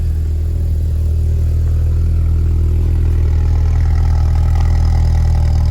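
Cold start of a VW Golf R Mk6 four-cylinder engine with an APR tune, recorded up close: a loud, steady idle with a deep, throbbing rumble that holds through the clip with no talking.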